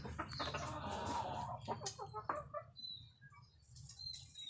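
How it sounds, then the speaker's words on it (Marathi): Laying hens in a small backyard egg-selling setup cluck close by in irregular bursts, with a brief wing flutter and quieter pauses between calls. "सध्या तरी 1-2 कोंबड्याच अंडी देतात।"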